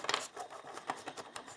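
Tarot cards shuffled by hand, quick soft rubbing and sliding strokes in an even rhythm, close and quiet, with no talking.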